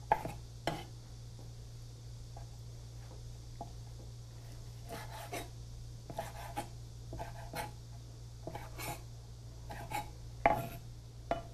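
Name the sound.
knife cutting squid legs into 4 cm pieces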